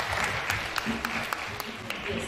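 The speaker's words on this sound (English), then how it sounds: "let us give them a big round of applause for their great performance" An audience at a school science day applauds children after their performance, a dense wash of clapping with scattered sharper claps, fairly loud, with a voice talking over it.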